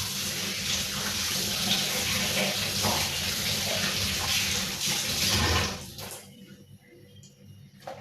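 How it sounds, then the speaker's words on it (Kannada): Hands are washed under a running tap in a home kitchen during fish preparation, a loud steady gush of water close by that cuts off near the end, leaving faint drips and room noise. "hand wash ಮಂತೆ"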